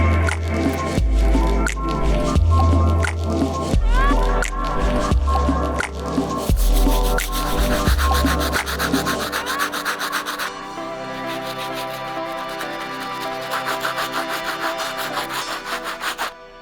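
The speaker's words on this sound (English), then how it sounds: "the first brush we're going to get started with is a stiff bristle brush to clean up these soles" A stiff bristle brush scrubs the soles of a yard-sale Jordan 2 sneaker, giving steady rhythmic rasping strokes, close and loud, that continue without pause and without talk.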